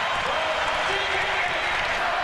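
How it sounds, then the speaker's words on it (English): A basketball arena crowd roars for the 2003 New Jersey Nets after a steal, a loud, sustained, even wall of cheering that holds steady throughout. "And the crowd is awakened."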